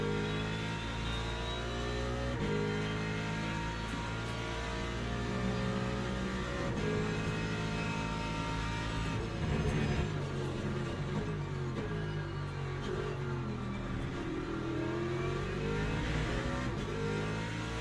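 A hypercar racing at Le Mans with damage to its rear wing, its engine droning and revving steadily throughout as it accelerates through shifting pitches, moderately loud and without speech.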